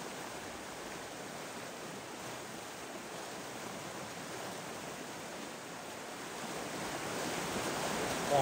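Rapids on the Kitka river in Kuusamo rush in a steady, broad roar of white water, close and unbroken, swelling slightly louder near the end.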